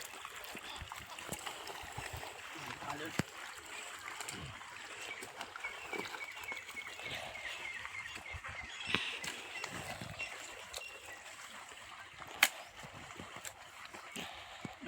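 Irrigation water runs through a field channel feeding a wheat crop, where a broken earthen bank lets it escape; a faint, continuous trickling and gurgling flow, with occasional small splashes and noises.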